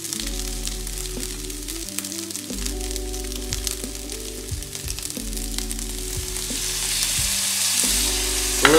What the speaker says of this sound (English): And we just want to stir that around.